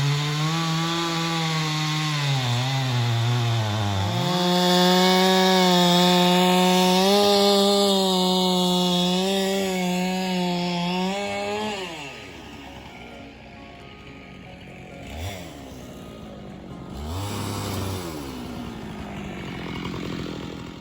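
A chainsaw cuts trees at a barn site, its engine revving high and steady through long cuts, then idling and revving again in shorter bursts, loud and close with no talking.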